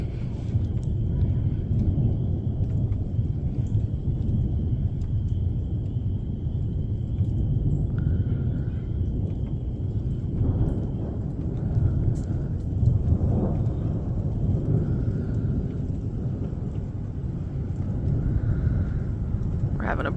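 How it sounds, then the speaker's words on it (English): Continuous low thunder rumbles through a severe spring storm as dark clouds race overhead, a steady, loud roll with brief swells and no clear breaks. "Just continuous thunder, lightning."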